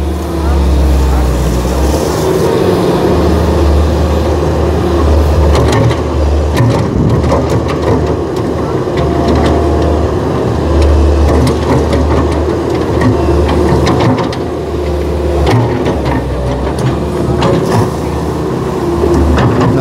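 Heavy machinery dredging the Teluk Buyung river during its normalization, a loud steady diesel engine rumble with scraping and clanking throughout, with people talking over it.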